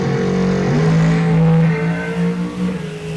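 Two drag cars at full throttle launch and roar down the strip in an ET bracket race, one of them a 1969 Camaro; loud sustained engine roar with rising harmonics, no talk.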